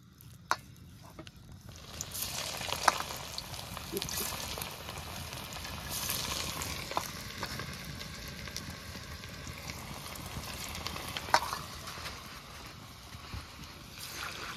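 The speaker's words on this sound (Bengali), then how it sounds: "তেল গরম হচ্ছে, তেল গরম, কড়াইকে তেল দিয়ে গরম হচ্ছে এখন শুধু" Oil heats in a wok for cabbage pakoras, giving a faint, steady sizzling hiss with occasional small pops and clicks.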